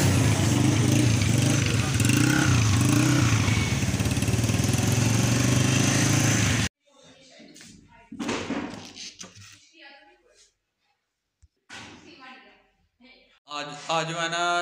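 A motorcycle engine runs close by with a steady, rough drone for several seconds, then cuts out abruptly, followed by intermittent speech and a few scattered knocks.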